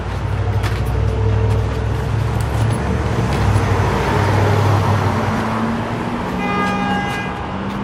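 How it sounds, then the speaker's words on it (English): A bus pulls up through street traffic, steady engine rumble and road noise filling the scene, with a couple of brief horn toots near the end; no talk over it. "Here comes your bus."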